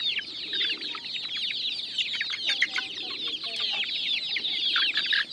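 A flock of hens clucks continuously on a farm where pigeons also feed. The dense, overlapping clucks and chirpy calls sound close and lively, with no talking.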